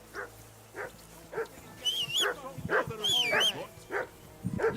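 A dog barks repeatedly in Kingdom Come: Deliverance 2, sharp woofs in an uneven rhythm with a few whimpering yips, while voices talk over the middle of the barking.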